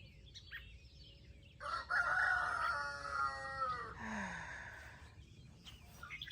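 A rooster crows once, fairly loud and close, a drawn-out call over a quiet background with faint chirping.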